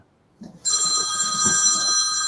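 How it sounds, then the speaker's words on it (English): A telephone bell starts ringing and keeps going, loud and steady, with a bright sustained ring, after a brief moment of quiet talk in a room. "That'll be the phone, Reg. That'll be the phone."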